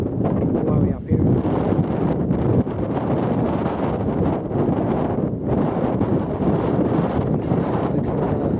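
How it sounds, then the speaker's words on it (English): Strong gusts buffet the microphone on a misty hilltop during a countryside walk, a continuous loud roar of wind with no break. "Blowy up here."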